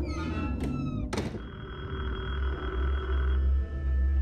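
In the video game Detention, a key turns in a school door lock with a metallic clunk and rattle, then a sharp knock-like thunk, over a low steady ambient hum.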